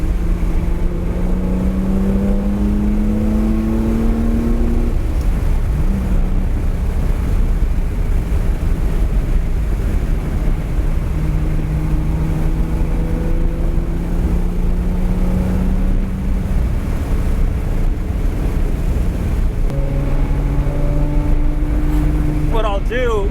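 Ferrari 330 GTC exhaust at high RPM around 5,500, with an odd note. A loud, steady engine drone rises and falls in pitch over several long sweeps and continues throughout.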